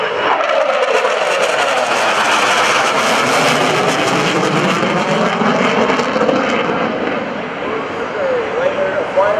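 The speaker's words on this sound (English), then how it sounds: "coming in over the top of the A-10 Thunderbolt 2 is a fighter that reminds me of Vietnam more than any other fighter" Loud jet roar of an F-4 fighter passing over an air show, a sustained rushing engine sound that swells and slowly shifts in pitch as the aircraft goes by, with an announcer talking over it.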